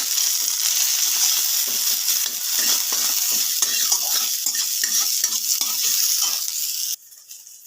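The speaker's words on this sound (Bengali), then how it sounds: "কাঁচা লঙ্কা আদা ভাজা হতে হতে এদিকে জিরেটা ঠান্ডা হয়ে গেছে" Green chilli and ginger, sprinkled with a little salt, fry in a pan with a steady close sizzle while a spatula stirs and scrapes in quick repeated strokes, the sizzle dropping sharply quieter near the end.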